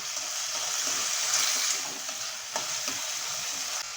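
Chana dal, rinsed and soaked for an hour, hits hot oil in a pan for a Malvani-style cabbage dish. It gives a loud, steady sizzle and crackle that holds for several seconds with no voices.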